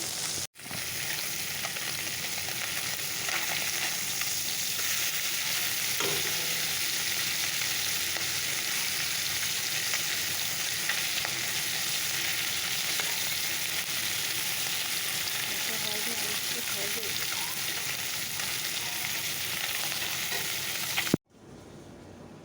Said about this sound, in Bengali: ছোটো মাছটা ভেজে নেব